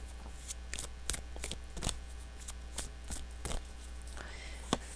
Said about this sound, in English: I'm going to shuffle out these goddess cards and lay them out with the zodiac cards